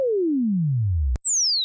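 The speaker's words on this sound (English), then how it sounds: "we get some spaceship sound effects" A modular synthesizer saw-wave tone glides steadily downward into a low rumble, then jumps high and sweeps down again, like a sci-fi spaceship effect.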